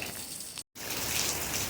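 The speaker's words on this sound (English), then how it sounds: "It's raining like crazy out there." Heavy morning rain pours down outdoors in Jamaica, a steady, dense hiss of drops hitting surfaces. It is briefly cut by a moment of silence, then continues unbroken.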